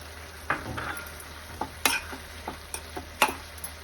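Tomatoes simmer with freshly added coriander in a pan for a raw tomato chutney, soft sizzling under a series of sharp, irregular clicks and scrapes of a spoon stirring against the pan, close and distinct.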